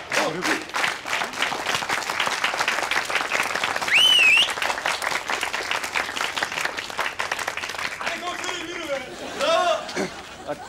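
A stage crowd applauds to welcome a police commissioner onto the stage, the clapping running loud throughout beneath people talking and a few whistles and cheers.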